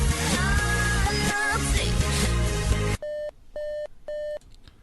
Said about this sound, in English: So when you hear the beep, beep, beep, it'll switch sides.